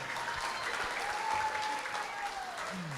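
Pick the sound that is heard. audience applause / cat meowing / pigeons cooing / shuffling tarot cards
audience applause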